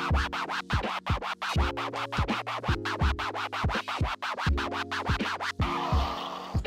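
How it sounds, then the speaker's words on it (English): Rapid back-and-forth turntable scribble scratching over a looping beat, quick chopped strokes at double speed, loud and close. "the Scribble Scratch is just a forward and back motion"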